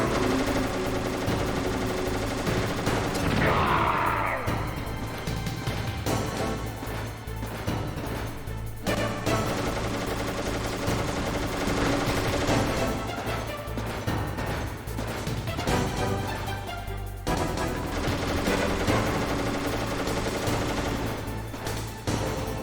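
Sustained bursts of gunfire from the PS1 game Metal Gear Solid, heavy and continuous over a dense bed of game music and effects, with a few brief lulls.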